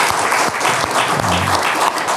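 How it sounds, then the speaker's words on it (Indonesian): Loud, dense applause from an audience honoring Indonesian teachers at a diaspora gathering, sustained and steady across the whole stretch, with a brief low voice under the clapping midway. "Ini sekali lagi tepuk tangan untuk guru-guru kita."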